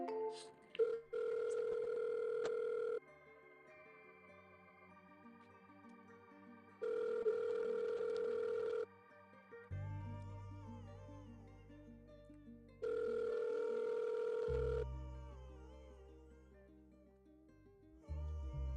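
An outgoing cell phone call rings three times before reaching voicemail, each steady ring tone lasting about two seconds with long pauses between, and faint low background sound in the gaps.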